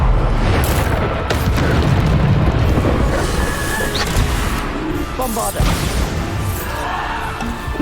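A Bombarda blasting spell in the Hogwarts Legacy video game, dense booming explosions and crashing impacts filling the scene continuously, loud and chaotic, with a player's voice faintly mixed in.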